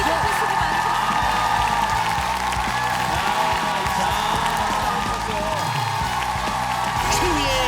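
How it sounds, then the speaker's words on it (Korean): Studio audience at a Korean TV quiz show applauding and cheering a contestant, a dense continuous wash of clapping mixed with crowd noise and possible talk. "끝까지 최선을 다해주 이기찬 씨한테도 박수 한번 보내주시고요"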